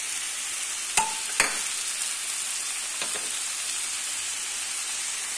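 Minced meat sizzling in a hot pan, a constant close hiss with a couple of sharp utensil clicks near the start and no talking.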